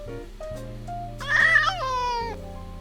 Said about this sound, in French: Et ben lui c'est un chat.